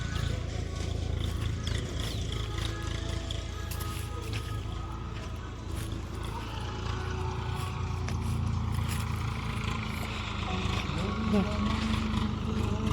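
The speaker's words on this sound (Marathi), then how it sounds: "ट्रॅक्टर चाललंय बा सकाळी सकाळी" A tractor runs early in the morning on a farm during the jowar harvest, giving a continuous low engine drone that stays steady and moderately loud for the whole stretch.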